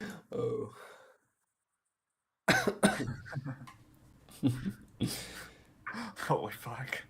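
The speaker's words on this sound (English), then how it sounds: "I started coughing myself" A man gives a few short, throaty coughs near the microphone, with a pause, then more harsh bursts mixed with his own talking.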